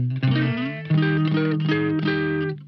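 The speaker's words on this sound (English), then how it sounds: "The dry guitar would sound like this" Dry electric guitar, clean or slightly overdriven, played with no reverb or delay: a few plucked chords and single notes ringing with sustained tones, upfront and alone.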